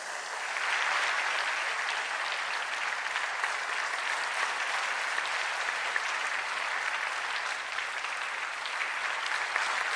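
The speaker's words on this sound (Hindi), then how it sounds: "आप सब अपनी भावनाओं को तालियों के माध्यम से मंच तक पहुंचाएंगे" Sustained audience applause fills a convention centre hall in Varanasi during an education summit ceremony, a dense, even roar of many hands clapping throughout.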